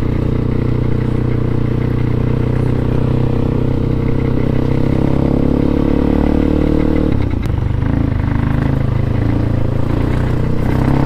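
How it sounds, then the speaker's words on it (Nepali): A Crossfire motorcycle engine revs hard under quick throttle, loud and close with a steady rough roar that dips and surges again partway through, no voices. "बाइकमा थ्रोटल गर्ने बित्तिकै हैन यस्तो राम्रो क्विक रेस्पोन्स गर्छ है"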